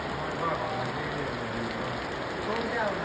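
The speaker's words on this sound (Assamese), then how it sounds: "কেনেকুৱা বৰষুণ দিছে দেখিছেনে" Heavy rain pours steadily in Longding, Arunachal Pradesh, a dense continuous hiss under a voice.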